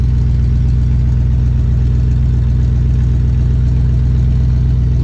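A 1977 Dodge Power Wagon W150 pickup engine runs steadily at idle, slightly smoky, a deep, continuous rumble with a low throbbing pulse, close and loud throughout, with no voices.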